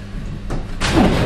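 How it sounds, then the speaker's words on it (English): A powerful magnetic shower door in a hotel bathroom in Venice swings shut, giving a broadband whoosh and a firm close with a thud at the end, nearby and fairly loud with no talking. "quite a powerful magnetic door"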